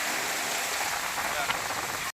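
A downpour of heavy rain in Patan, Gujarat keeps up a thick, uniform roar for about two seconds before cutting off abruptly into silence.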